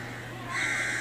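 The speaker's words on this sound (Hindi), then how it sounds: "किसके कौवे बोल रहे हैं?" Crows cawing outdoors, a sustained harsh call rising midway and holding to the end, moderately close over a steady low hum, with no talk.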